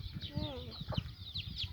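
A pet hen gives a short burst of clucking close by, with small scuffling noises from the farmyard around it.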